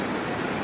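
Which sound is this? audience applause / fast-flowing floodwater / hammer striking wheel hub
fast-flowing floodwater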